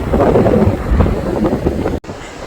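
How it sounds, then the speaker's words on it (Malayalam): Strong, cold wind at Jumeirah Beach, Dubai, buffets the microphone in a steady, heavy rumble, then cuts out abruptly for an instant near the end before resuming. "നല്ല കാറ്റ്"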